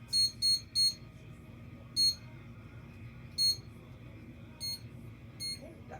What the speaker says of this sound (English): got my barley timer going and my chicken timer going